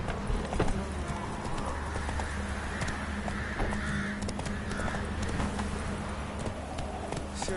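Roach, the horse in The Witcher 3: Hearts of Stone, trots along with steady, close clip-clop hoofbeats over a continuous game background hum, with no voices.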